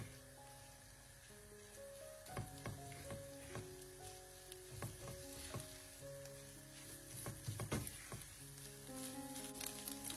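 Peeled, finely chopped tomatoes and a spoonful of tomato sauce sizzle and fry in a pan, a continuous crackling hiss with scattered sharp pops and clinks of stirring, fairly quiet and without speech.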